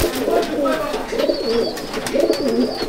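Pigeons coo in a loft, repeated rolling throaty calls in a steady rhythm, close and clear, with a faint higher note sounding now and then.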